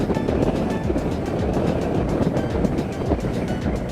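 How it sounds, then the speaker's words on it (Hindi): Strong wind blowing in the mountains, a loud, continuous broadband roar buffeting close by with no letup. "बड़ी जोर से हवा चल रही है"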